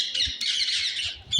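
A pigeon perched inside a wooden pigeon house gives short, harsh squawking calls, close and fairly clear, in quick bursts with brief gaps and no talking.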